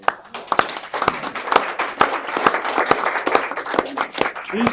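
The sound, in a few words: audience round of applause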